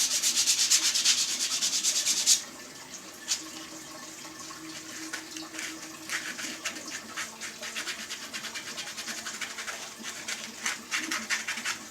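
Sanding wood for corner jigs gives a steady, close rasping scrub, loud at first and then continuing in quieter rhythmic strokes.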